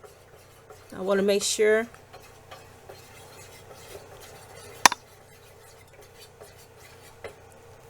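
A spoon stirs melted wax mixed with fragrance oils in a pot, making faint scraping sounds and one sharp clink of metal. A voice speaks briefly near the start.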